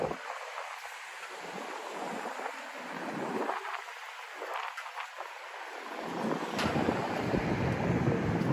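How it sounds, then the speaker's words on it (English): Wind buffeting a microphone outdoors on a night in New York City, gusty hiss and low rumbles that swell and ease, growing stronger toward the end. "It is a windy night though, everybody."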